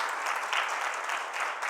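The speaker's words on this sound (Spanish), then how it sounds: "¿Puede darle un aplauso fuerte al Señor por eso?" A church congregation claps during a sermon, a steady, fairly faint wash of applause that swells slightly in places and carries on without any voice over it.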